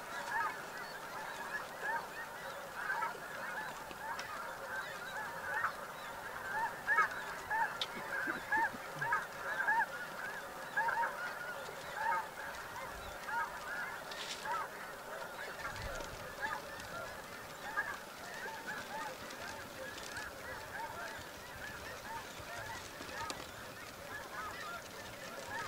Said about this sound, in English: Looks like a lot of the birds are headed out to the north.